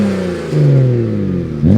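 BMW 335i turbocharged engine revving on its stock exhaust before a catless downpipe install, a loud close-up rev whose pitch rises and falls, then a second quick blip at the end.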